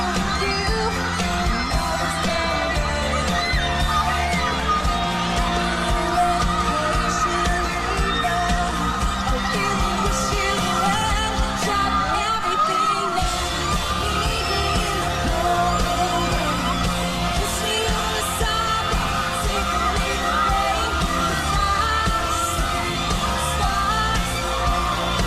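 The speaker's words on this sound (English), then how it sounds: "the crowd is losing it" Concert crowd screaming and cheering, a continuous loud roar of voices over music with a brief dip midway, dense and unbroken.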